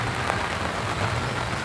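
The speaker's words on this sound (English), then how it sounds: "this is what a rainy day in the life of Kevin looks like" Steady rain falls outdoors in a dense, even hiss that continues without a break, with no voices over it.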